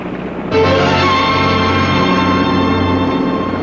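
Boat engines running, a loud, steady droning hum with layered tonal whine that kicks in abruptly after a moment and carries on evenly to the end.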